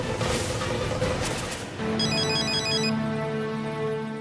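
Ringtone of a phone in a Marathi TV serial scene, a steady electronic melody of repeated tones that enters midway over a busy background, moderately loud with no talk over it.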